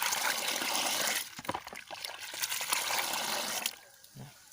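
Fermented pineapple liquid is poured onto a vegetable bed, giving a soft, continuous splashing trickle for several seconds before it tapers off to a faint dribble.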